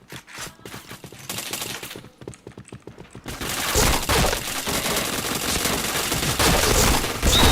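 Rapid bursts of video game gunfire crackle loudly, first in short choppy volleys, then a dense sustained barrage of automatic fire and explosions during a livestreamed shooter match.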